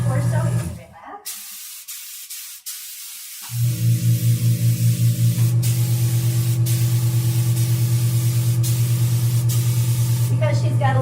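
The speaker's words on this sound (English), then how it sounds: "I can do a little contouring with the airbrush if you want to" An airbrush sprays tan onto a person's body with a steady hiss over a low, pulsing compressor hum, preceded by a few seconds of softer noise and brief muffled sounds.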